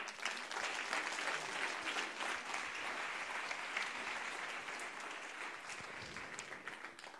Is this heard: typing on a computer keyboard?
no